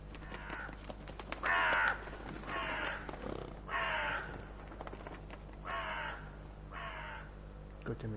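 Crows caw repeatedly in The Witcher 3: Blood and Wine, about six harsh rasping calls spaced a second or so apart, moderately close over a low steady ambient hum.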